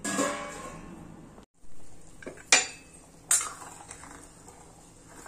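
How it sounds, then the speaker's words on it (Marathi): A lid goes onto a pot of chicken rassa with two bright metallic clinks a moment apart, following a softer stirring clatter at the start. "आता आपण याला झाकून ठेवूया"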